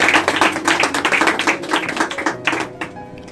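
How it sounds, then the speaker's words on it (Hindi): Devotees at a Hindu devotional bhajan gathering in India applaud to welcome a female bhajan singer, a dense, steady burst of many hands clapping together for a few seconds before fading out; no voices are heard. "भक्तजन तालियों के साथ में इनका भी स्वागत करेंगे।"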